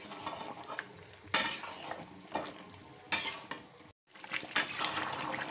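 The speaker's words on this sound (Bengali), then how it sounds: "এইভাবে কন্টিনিউয়াস চালাতে হবে দই দেওয়ার পর" A spoon stirs yogurt into chicken in a hot pan: repeated scraping strokes come in distinct bursts over a soft, steady sizzle, close and fairly quiet.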